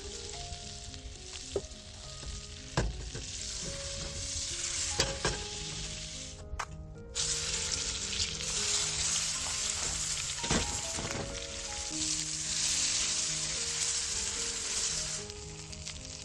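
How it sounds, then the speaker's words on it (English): Beef tenderloins frying in butter and oil, a loud continuous sizzle with crackles and the odd clatter of a pan or utensil, heard close with no talking. "The tenderloins are seasoned well with salt and pepper and fried in butter and oil"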